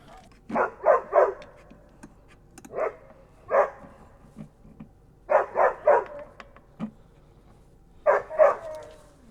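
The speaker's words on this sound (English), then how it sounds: "Now the puppy started barking, of course." A puppy barks indoors in short clusters of two or three sharp yips, separated by pauses, loud and close with no talk.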